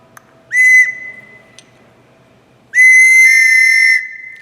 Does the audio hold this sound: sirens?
no